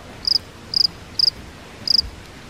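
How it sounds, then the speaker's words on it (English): Crickets chirping as a sound effect: four crisp, evenly spaced bursts of rapid high trills, each a quick cluster of pulses, loud and clear against quiet background hiss with no talking. "Crickets, crickets."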